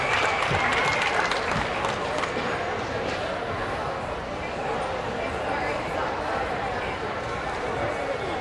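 An audience at a county fair poultry showmanship event applauds the young exhibitors, a steady, dense clatter of clapping in a large event hall with murmuring voices mixed in throughout.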